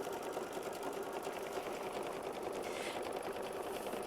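A sewing machine stitches down a batik quilt block square, running continuously with a rapid, even needle rhythm for the whole stretch, quiet and close with no talk.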